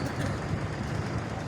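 The 48 Down Rehman Baba Express, running late from Peshawar, approaches Karachi Cantt station as a steady, loud rumble of rolling wheels and engine noise with no distinct horn or voices.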